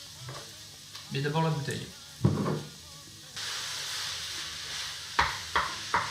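Onions and red meat fry in a pot for chili, a steady close sizzle with stirring clatter and bursts of hiss, while a person speaks briefly in French over it.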